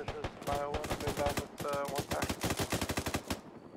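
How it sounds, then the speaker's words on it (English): Two gun-armed Huey helicopters in Arma 3 pass overhead, their rotors a rapid, rhythmic chopping thud that pulses steadily, fairly quiet, mixed with faint radio voices. "Be advised, we got two times Hueys with guns on them above us as well"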